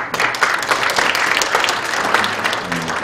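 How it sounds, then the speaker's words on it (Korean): Loud, sustained audience applause in a lecture hall welcoming a university professor to the stage, dense even clapping from a large crowd throughout. "유 교수님 아주 큰 박수로 맞이해주십니다."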